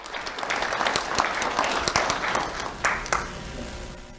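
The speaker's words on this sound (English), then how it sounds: "Let's have a round of applause for Joanna." Audience at an award ceremony claps in a sustained burst of applause, dense and moderately near, fading slightly toward the end.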